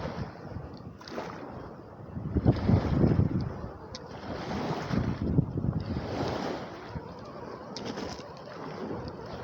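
Big waves wash against a lakeshore in high wind, with surges of crashing surf and gusty rumbling that swell and fade over several seconds, fairly close and without talk.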